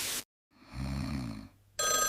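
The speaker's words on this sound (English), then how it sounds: "The phone is ringing so loudly." A telephone ringing loudly for about a second, a steady buzzing ring with a strong low hum, set between sharp bursts of other noise.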